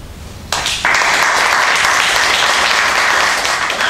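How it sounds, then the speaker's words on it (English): A convention crowd at a Comic Con panel breaks into loud, sustained applause that starts abruptly and keeps going steadily, dense and close, with no voices over it. "Clap your hands if it's Godzilla's guts."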